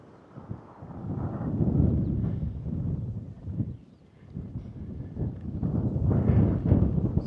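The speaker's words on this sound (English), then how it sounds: "Hopefully the mic takes a little bit of the wind out" Strong wind buffets the microphone on a mountain overlook beside an observation tower along the Appalachian Trail, a low roaring rumble that rises and falls in gusts.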